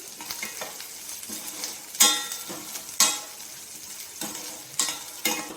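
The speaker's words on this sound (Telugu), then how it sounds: "సో పసుపు వేసుకొని కలుపుకోవాలి." Egg curry masala stirred in a pan after turmeric goes in, soft sizzling frying under a spoon scraping the pan, with several sharp spoon knocks against the metal.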